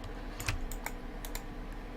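Typing on a computer keyboard while modeling a Suzuki Samurai in Blender 2.79: a handful of sharp, irregular key clicks spread across two seconds, close and fairly quiet, with no voices.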